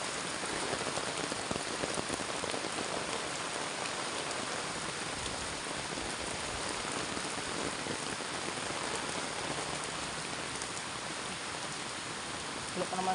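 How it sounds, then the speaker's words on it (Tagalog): Heavy rain pours steadily onto a flooded street, forming a dense, unbroken hiss that stays loud and even throughout. "Talagang ulan."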